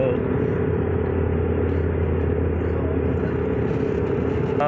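Constant low engine and road rumble inside a car driving toward Mecca on a cloudy, windy day. The drone is even and steady throughout, with no clear speech.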